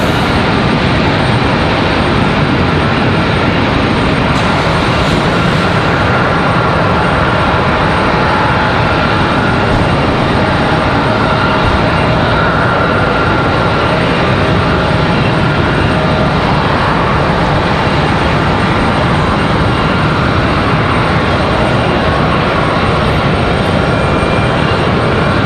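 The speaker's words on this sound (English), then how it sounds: "I think this A321 right here is headed back to Charlotte." An Airbus A321 airliner's engines roar in a loud, steady, broadband rumble at Raleigh-Durham airport, sustained throughout with no talk.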